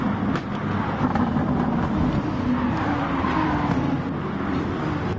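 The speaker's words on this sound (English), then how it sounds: "Lots of tire noises." Tires squeal and hum from race cars in a GT3 racing game at Alsace Village, a continuous loud drone of engines and road noise with faint shifting whines and no voices.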